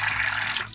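Water draining from soft, warm homemade paneer held in a cloth while it is rinsed for Bengali rasgulla, a steady close broadband trickle and splash throughout that thins out near the end.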